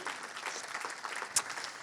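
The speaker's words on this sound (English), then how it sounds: "Give Abbie a huge round of applause." A church congregation at Riverside Church, Whitstable, breaks into a short burst of warm applause welcoming a speaker, a brief, even patter of many hands at moderate distance.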